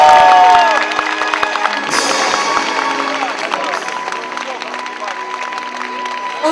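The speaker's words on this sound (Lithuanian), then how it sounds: "Audringi jūsų aplodismentai" Audience at the Miss Lithuania 2012 pageant applauding the newly crowned winner, a loud sustained wash of clapping and crowd noise with some cheering, swelling after the first couple of seconds and holding steady.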